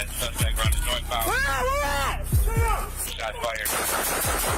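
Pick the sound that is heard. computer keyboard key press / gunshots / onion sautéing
gunshots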